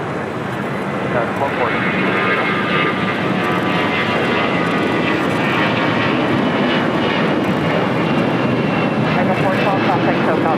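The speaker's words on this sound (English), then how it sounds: "Next takeoff heading to Dallas, Fort Worth, Texas. American Airlines flight 412. It's an A321." An American Airlines Airbus A321 takes off from LAX bound for Dallas–Fort Worth, a loud, sustained jet-engine roar that builds and holds for the whole stretch, with voices talking over it.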